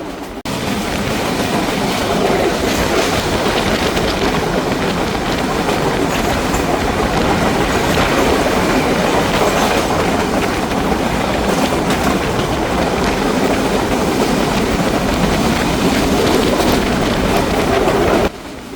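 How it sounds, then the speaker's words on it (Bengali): The Banalata Express runs through Baral Bridge railway station without stopping, a loud, continuous roar of wheels and carriages with steady rhythmic clatter that holds close for the whole stretch and then cuts off at the end. "ট্রেনটি থ্রুপাস যাচ্ছে আমার পছন্দের একটি railway station, Boral bridge railway station"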